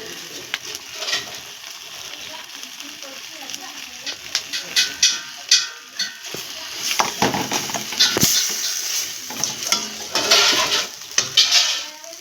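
Spice paste with green chillies cooks in a pan, with a faint sizzle beneath repeated spoon scrapes and clanks against the metal, while a voice speaks intermittently.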